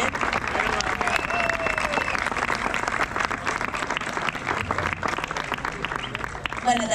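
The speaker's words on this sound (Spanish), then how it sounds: "darle un fuerte aplauso al equipo que trabajaron hoy muy bien." A crowd at a padel tournament opening in Calella gives the working team sustained, lively applause, steady clapping throughout with some voices mixed in.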